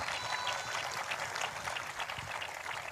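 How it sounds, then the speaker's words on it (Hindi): A church congregation gathered for prayer claps together, a steady, fairly faint wash of applause that carries on evenly without a break. "जिनको ये बात समझ में आ चुकी है वो ताली बजाकर धन्यवाद कर रहे हैं"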